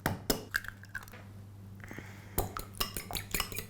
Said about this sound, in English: I'm going to crack the eggs in the bowl